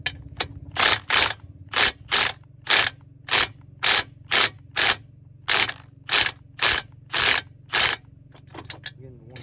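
A cordless impact tool spins a socket in a rapid series of loud, evenly spaced mechanical bursts separated by short pauses, close up, with a low steady hum underneath.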